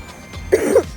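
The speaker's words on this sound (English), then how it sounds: "And I have a cough." A single short, raspy cough, close and fairly loud, with no talking around it.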